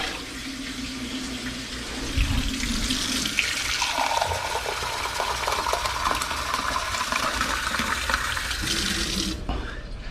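Tap water runs steadily into a pot while making corn chowder, a continuous close splashing flow that deepens after a couple of seconds and cuts off sharply just before the end.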